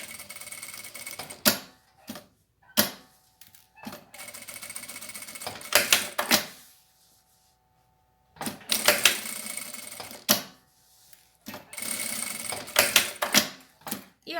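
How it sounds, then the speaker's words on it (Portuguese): A sewing machine runs a safety seam over a marked square on a rounded zippered pouch, in several short bursts of stitching separated by pauses, with faint rhythmic clatter in between. "Vou para a máquina, vou passar uma costura em cima da onde eu risquei aqui"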